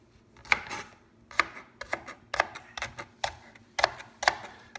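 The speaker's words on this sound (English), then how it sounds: "I'm going to chop the green onions here." A knife chopping green onions on a cutting board, about a dozen crisp, close knocks in an uneven rhythm with no talking.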